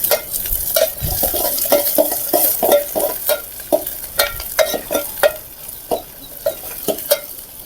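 Eggplant and onions fry in oil in a pan, and a utensil stirs them with repeated scraping clinks over a soft, continuous sizzle.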